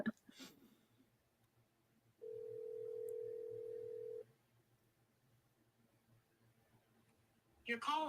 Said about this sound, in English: We're going to call him in real time.